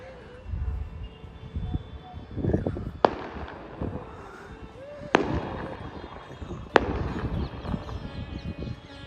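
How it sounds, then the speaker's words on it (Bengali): Three sharp firecracker bangs go off a couple of seconds apart outdoors in daytime in Vrindavan, near the Yamuna, with faint voices and background noise between them. "বুম পোটাচ্ছে দিনের বেলা বুম পোটাচ্ছে"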